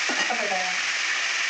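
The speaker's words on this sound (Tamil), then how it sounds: "சக்கரவள்ளி கிழங்கு, அவரைக்காய் போட்டுட்டு அதை ஒரு கிண்டு." Sizzling and stirring of potato, carrot, sweet potato and broad beans in a hot pan for sambar, a steady loud frying hiss with a brief scrape of stirring and a faint voice at the start.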